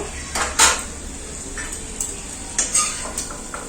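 Salt-and-turmeric fried paneer lifted out of a pan, with sharp scattered clinks and scrapes of a utensil against metal over a faint sizzle, close and intermittent.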